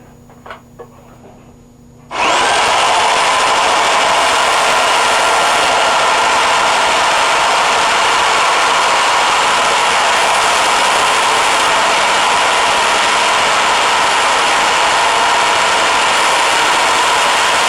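A core drill held in a drilling jig kicks in sharply after a short quiet stretch, then grinds on loud and unbroken with a dense, steady high-pitched roar that fills the rest of the clip.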